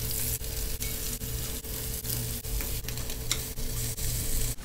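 Food fries in a pan with a constant close sizzle and crackle, punctuated by regular faint ticking knocks, with no talk over it.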